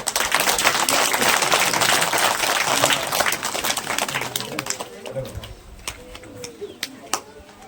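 Audience clapping at a primary school admission and girls' education festival, a dense burst of applause that fills the first few seconds, then thins into scattered claps, with birds calling faintly in the background.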